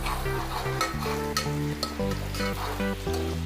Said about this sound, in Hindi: इसको अच्छे से हम कलर चेंज होने तक पकाएंगे प्याज को।